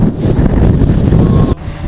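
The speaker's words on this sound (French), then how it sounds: "il y a un vent de malade" Heavy wind buffets the microphone in a loud, continuous roar, with a brief dip near the end before the gusting resumes.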